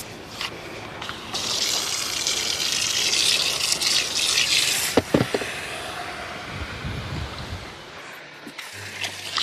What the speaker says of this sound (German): dann lasse ich mal jetzt Wasser hier rein.